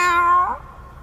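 An animated cat gives a single clear, close meow that bends downward and fades within about half a second, with no talk over it.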